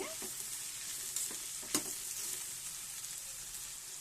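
Ridge gourd and onions sizzle gently in a frying pan as a utensil stirs them. Soft scraping and a few sharper clinks of the spoon sound close by over a steady low fry, with no voices.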